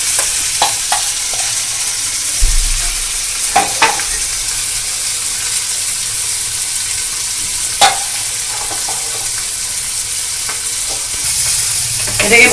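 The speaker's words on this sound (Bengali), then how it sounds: "এটাকে ভালো করে নেড়ে নেড়ে কষে নিতে হবে তেলেতে।" Chickpea and semolina filling being stirred and sautéed in a few spoonfuls of mustard oil, with steady soft sizzling broken by intermittent spoon scrapes and clinks against the pan, close and alone without voices.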